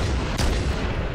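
Gunfire in the original Halo, Anniversary Edition: dense, continuous loud booming shots across the whole moment with a sharper blast near the middle, no talk.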